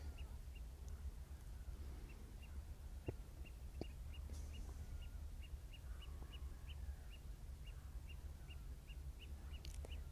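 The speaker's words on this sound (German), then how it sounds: "Und hier sind relativ viele Vögel." Birds call over the Wadden Sea tidal flats, with quacking and squawking from a flock at a distance over a low steady background rumble, plus faint regular high ticking.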